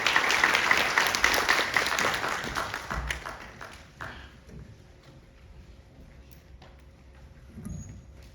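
A conference audience at a National Assembly infrastructure forum claps to welcome a lawmaker. Loud, dense applause fills the first few seconds, then thins out and fades to a quiet room with a few scattered claps and small noises.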